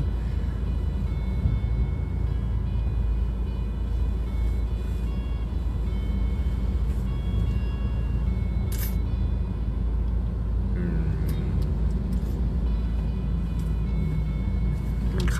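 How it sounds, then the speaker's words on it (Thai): Road traffic in a jam on Phetchaburi Road in Bangkok, a continuous low engine rumble of idling and creeping vehicles heard close, with brief higher mechanical noises near the middle. "ตอนนี้ ก็ รถติดนะครับ อยู่ที่ถนนเพชรบุรีนะครับ"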